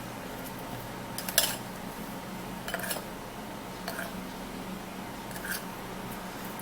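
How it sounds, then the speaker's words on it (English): A spoon stirs a mixture of honey, baking soda and brown sugar in a bowl, clinking against the side about four times at a steady pace over a constant background hum. "stirring that up"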